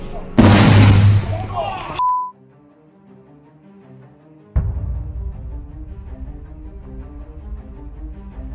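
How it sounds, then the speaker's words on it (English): A power pole fire blowing up: a loud, harsh burst of crackling and roaring noise for about two seconds, then near silence, followed by a steady rumbling background with a faint tonal hum. "In Preston's, the shock came from a power pole fire. See, it's going to blow."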